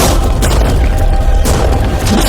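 A tank fires a shell, giving one loud, deep, booming blast that fills the short stretch, followed by a rumbling second surge, with no voices.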